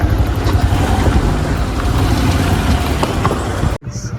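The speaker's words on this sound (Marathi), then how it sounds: "गाड्या एवढ्या आल्या ना ट्रॅफिक लागले डायरेक्ट" Dense road traffic with many vehicles around a wedding outing, a loud continuous engine rumble and roar close by that drops out briefly at the end.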